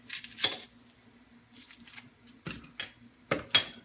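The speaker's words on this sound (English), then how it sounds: "Now I'm going in and I'm going to cut my onion." A knife cuts through an onion on a cutting board at home, a handful of crisp slicing and tapping strokes in an irregular rhythm, close and fairly quiet, against near silence.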